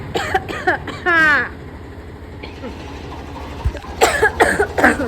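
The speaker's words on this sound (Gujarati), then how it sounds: "ઉધરસ આવી" A person coughs briefly amid conversation in a large rural storage godown, the harsh burst standing out between bouts of nearby talking voices.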